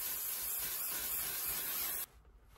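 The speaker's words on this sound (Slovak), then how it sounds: "Fixnem to týmto sprejom od L'Oreal." A L'Oreal setting spray mists onto a face after makeup, a steady close hissing burst lasting about two seconds before cutting off abruptly into quiet room tone.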